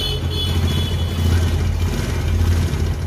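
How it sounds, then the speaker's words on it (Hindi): A TVS XL 100 moped engine idles steadily just after starting, fitted with a TVS Sport carburetor; a low, continuous rumble with a fairly even throb runs throughout at a steady level. "इंजन स्टार्ट हो गया अपना।"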